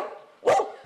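A dog barks once at a humane society animal shelter, a single loud, close bark standing out after a stretch of quieter background noise.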